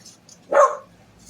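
A single short dog bark, fairly close and moderately loud, in an otherwise quiet room.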